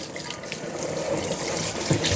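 A kitchen sink faucet runs steadily as a spoon is rinsed under it, a continuous close splashing stream of water with slight shifts in texture as the spoon moves through the flow.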